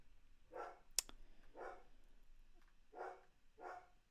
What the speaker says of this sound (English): my dog is barking